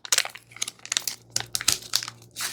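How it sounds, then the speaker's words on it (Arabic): A miswak tooth stick's plastic wrapping crinkles as it is opened, close and fairly quiet, in a run of short irregular rustling bursts. "وبعدين بنفتح الكيس. بعد ما بنفتح الكيس"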